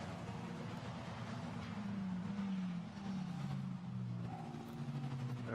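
Formula Renault Eurocup race cars at Barcelona going downhill through turn 5, a steady engine drone with rising and falling pitch as the cars pass, moderately distant, with no talk.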